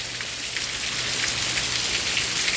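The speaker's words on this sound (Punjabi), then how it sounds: "ਬਹੁਤ ਜ਼ੋਰਦਾਰ ਮੀਂਹ ਆ ਗਿਆ" Heavy afternoon rain in Rajasthan pours steadily as a dense, even hiss with scattered drop patter, close and continuous with no voices.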